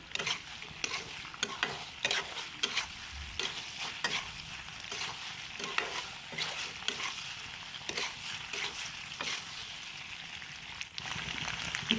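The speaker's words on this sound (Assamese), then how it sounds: "এতিয়া পাস্তাখিনি মই আকৌ এবাৰ মিক্স কৰি দিছোঁ ভালদৰে" Pasta gets stirred and tossed in a frying pan, a busy clatter of utensil scrapes over a soft sizzle, close and continuous throughout with no voices.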